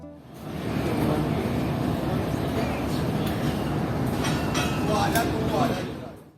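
The 15 Up Karachi Express, hauled by locomotive GU409015, pulls out of platform 5 at Multan Cantt station with a continuous low rumble and rolling rail noise that swells and then fades near the end.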